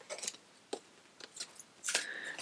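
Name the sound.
shuffling a deck of tarot cards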